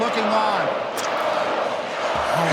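Hostile boxing crowd roaring in a Soviet arena, a dense continuous wall of noise with scattered shouts rising above it.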